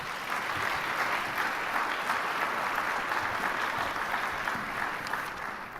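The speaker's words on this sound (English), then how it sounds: "Please welcome him to the stage with a big round of applause." An audience at an impact-investing forum applauds, sustained dense clapping that welcomes a speaker to the stage. The applause fills the room evenly and loudly, with no talk over it.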